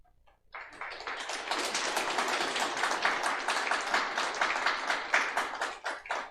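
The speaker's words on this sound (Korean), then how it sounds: "전달해 드릴 때 우리 감사하고 축복하는 마음으로 박수를 주시길 바랍니다." Church congregation at a Sunday service in Andong breaking into applause after a brief pause, a steady, dense roomful of clapping sustained for several seconds before easing slightly at the end.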